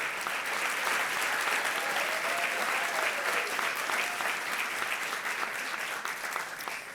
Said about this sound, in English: Let's just give a rousing round of applause to all of the people who made today possible.